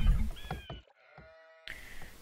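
Sheep in an Age of Empires match give a couple of short bleats amid game sounds, one a clear wavering baa standing alone between busier effects.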